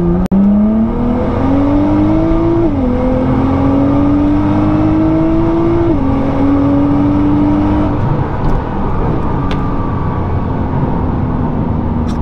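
A Nissan GT-R launches hard using launch control, its engine revving up in a loud, rising whine that climbs through gear shifts before easing off.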